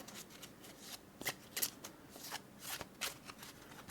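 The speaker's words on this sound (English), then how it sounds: "Do some cuts and some overhand shuffles." Soft, papery riffling and slapping of cards being shuffled in quick irregular bursts, close and fairly quiet.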